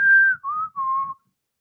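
A person whistles a short three-note phrase, each note clear and close, sliding slightly downward before stopping, with nothing else behind it.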